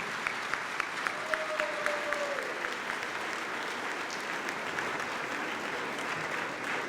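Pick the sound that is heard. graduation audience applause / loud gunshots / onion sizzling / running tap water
graduation audience applause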